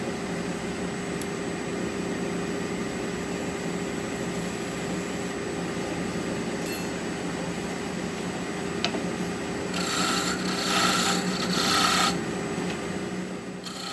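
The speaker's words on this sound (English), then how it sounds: "Start in the center and work to the ends, using the versatile spindle roughing gouge." A spindle roughing gouge turns wood on a lathe, making a continuous rasping cut over the steady hum of the machine. The cut grows slightly louder near the end.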